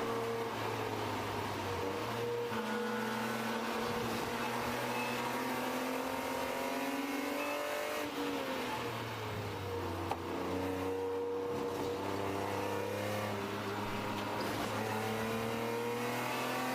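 Race cars including a Porsche Boxster 986 and a BMW E36 run in an endurance race at VIR, engines droning and shifting pitch up and down as they accelerate and brake through corners, heard steadily from onboard.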